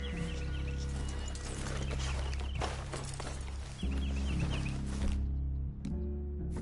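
Horses' hooves clip-clop at a walking pace in a video game, a rhythmic run of soft knocks set against a sustained musical drone, with a brief cut near the end.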